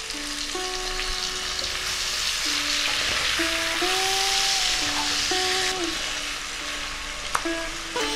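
Potato, pumpkin and prawn pieces fry together in hot oil with a dense, steady sizzle up close. Sustained tonal notes drift over the hiss through much of the clip.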